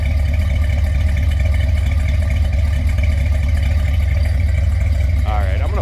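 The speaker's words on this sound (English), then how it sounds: "Nice little throaty exhaust note" A 1979 Chevrolet Corvette engine running from behind the car, a steady, loud, throaty exhaust rumble with a deep low pulse, and a short voice near the end.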